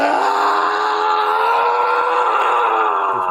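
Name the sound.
man screaming angrily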